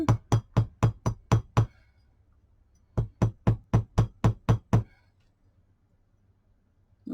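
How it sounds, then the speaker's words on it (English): Hammering paper bead earrings made from recycled Christmas cards: two bursts of about seven sharp, evenly spaced hammer blows each, close and loud, separated by a short pause. "So I'll turn it over and then I'll hammer it again."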